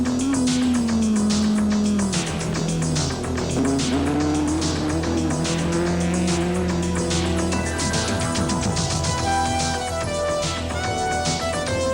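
A four-wheel drive Toyota Conquest rally car races along a rally road, its engine revving hard and rising through the gears with tyre squeal, loud and continuous from close by.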